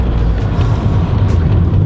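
Classic Mini engine idling or running with a low, steady rumble and throb, close and loud for the whole short stretch.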